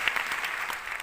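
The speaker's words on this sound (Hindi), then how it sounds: "मैं चाहूँगा सर के लिए एक बार जोरदार ताली बजाइए" An audience at a business team meeting breaks into a short burst of clapping, individual claps distinct and crisp, moderately loud, with no speech over it.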